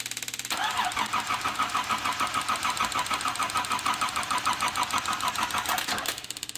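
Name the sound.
1979 Datsun 280ZX engine cranking and starting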